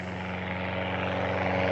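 A small rented plane takes off from runway 30, its steady propeller and engine drone with a low harmonic hum holding strong and close throughout, slowly swelling in loudness.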